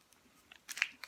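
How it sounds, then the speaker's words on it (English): Someone chews a Caramello Koala, a milk chocolate with a caramel centre, producing a short burst of close, crunchy bites after a near-silent start. "I'm gonna have to sit and listen to me chewing."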